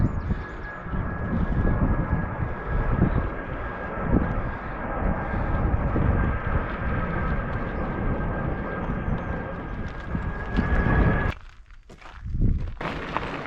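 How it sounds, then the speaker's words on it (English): An Airbus Beluga (Guppy) cargo plane passes overhead above a forest path. It makes a steady, broad jet roar with a thin sustained whine, and wind buffets the mic. The roar cuts off sharply near the end. "Oh wow, the Airbus Guppy plane."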